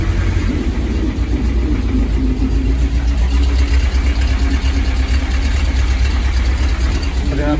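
A Triumph TR7 engine runs steadily and loudly close by, a rough continuous idle with a low throbbing pulse and no clear change in revs.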